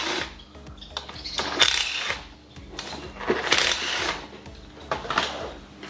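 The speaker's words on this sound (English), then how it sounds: "remove these bolts here with the Torx 30" Torx 30 bolts being worked loose on a Chevrolet Cruze engine, a fast, steady ratcheting mechanical clatter with periodic louder bursts, close and moderately quiet, continuing throughout without talk.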